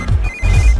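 A phone rings briefly with a steady electronic tone over a low background, close and fairly loud.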